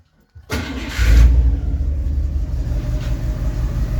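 A car engine cranks briefly, then catches and settles into a loud, steady idle close by.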